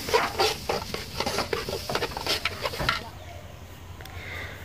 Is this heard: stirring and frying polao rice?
yes